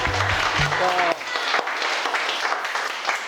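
Audience applause breaks out in a classroom after a teacher's resonance demonstration, a dense wash of clapping with voices and a brief tonal squeal early on, continuing steadily throughout.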